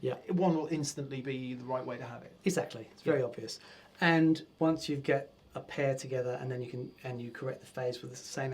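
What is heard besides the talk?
No everyday noise stands out behind the speech.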